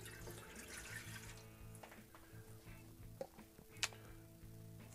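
Lukewarm water runs from a kitchen tap for pizza dough, a faint, steady trickle with a few small clicks and drips nearby.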